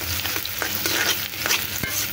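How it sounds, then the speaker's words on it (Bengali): Onions frying in oil in a home kitchen pan, a steady close crackling sizzle with a few sharper spits and stirring scrapes over about two seconds, no talking. "পেঁয়াজ কেটে দিয়ে দিলাম, পেঁয়াজটা একটু ভালো করে ভেজে নেবো"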